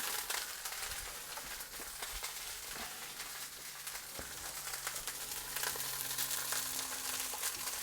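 Sausages brown in a pan at a gentle, low temperature, giving a soft, steady sizzle and crackle with occasional small pops and scraping clicks and no talk over it.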